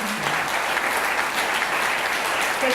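Audience applause for amateur actors at a stage show, a full, even roar of clapping from a large crowd that holds steady throughout, with a brief voice at the edges.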